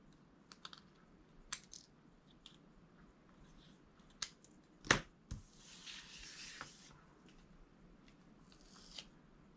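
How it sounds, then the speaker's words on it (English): Scissors snip excess paper from the bottom of a handmade card during a crafting session: sparse, close, soft clicks and crisp cuts, with a longer rustling cut midway, in a quiet room with no talking. "We're going to cut off our excess from the bottom."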